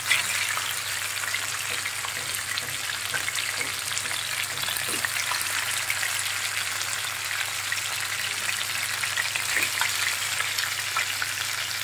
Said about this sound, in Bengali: যেহেতু ব্রয়লার মুরগি সেই কারণে আমি একটু ভেজে নিচ্ছি